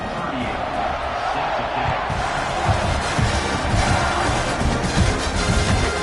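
Stadium crowd at kickoff in an NCAA football video game, a broad, continuous roar of many voices swelling slightly in the second half, with commentary-style talk layered over it.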